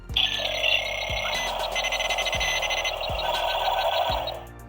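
A bright electronic alarm tone from a Spin Master Bat Tech Batcave toy rings steadily and continuously, with a faint rhythmic thump pulsing underneath roughly every second.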